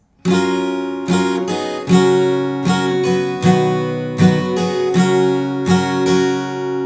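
Close, bright acoustic guitar strumming moves through four chords in a repeating down-down-up rhythm, played alone without any talking.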